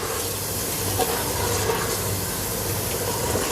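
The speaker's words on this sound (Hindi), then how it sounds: "2-3 मिनट अरवी भूनने के बाद अब हम इसमें पानी डाल देंगे।" Water poured into a cooking pot of taro root and chicken frying in ghee, a continuous hissing, rushing wash of liquid meeting the hot pan for a few seconds, with no voices.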